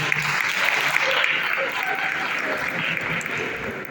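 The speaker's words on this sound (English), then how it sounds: "Can you give a round of applause?" A crowd at a mayoral tour event in Lenasia applauds, a steady, moderately loud wash of clapping with faint voices underneath.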